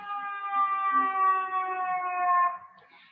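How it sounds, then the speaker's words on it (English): A siren in Chicago sounds as a steady, harmonic wail that drifts slightly downward, then cuts off and fades near the end. "Even despite all of the sirens here in Chicago"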